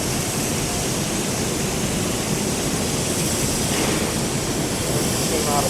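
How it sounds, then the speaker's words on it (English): The Walt steam locomotive of the Walt Disney World Railroad firing up at the roundhouse, giving a loud, continuous roaring rumble and hiss that stays steady and close for the whole stretch. "That rumbling sound, that's actually the Walt engine firing up."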